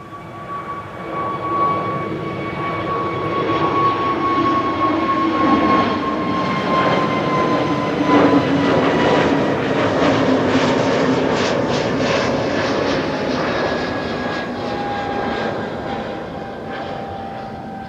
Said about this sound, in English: this is SAS flight 1548 going to Copenhagen